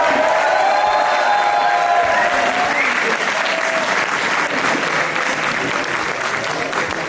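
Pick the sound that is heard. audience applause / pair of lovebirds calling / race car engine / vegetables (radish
audience applause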